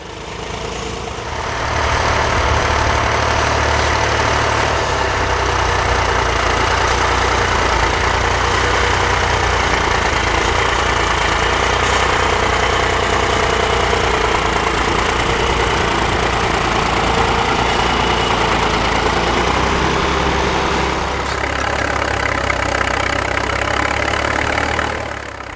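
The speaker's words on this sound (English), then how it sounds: "A beautifully restored Massey Ferguson 135. This one was built round about 1967." A restored 1967 Massey Ferguson 135 tractor pulling a matching Ferguson plough at a working day, its engine running as a loud, steady, continuous drone that holds for most of the stretch and eases slightly near the end.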